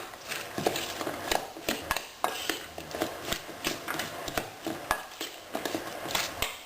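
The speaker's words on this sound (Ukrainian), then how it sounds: "залити пахущою соняшниковою олією і перемішати" A spoon stirs a salad of chopped cucumber and parsley dressed with fragrant sunflower oil, giving a steady run of clinks and scrapes against the bowl in a loose repeating rhythm, close and clear.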